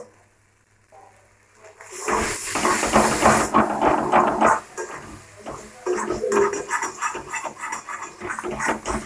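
Food sizzling and hissing in a pan as the last of the cooking water boils off, a sudden loud burst of steamy frying that continues steadily with clinks of a utensil.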